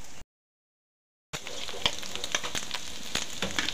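Carrots and radish sizzle and fry in a pan while cooking bopis, a steady close crackle that starts after a short silent gap, with small pops and stirring clicks scattered through.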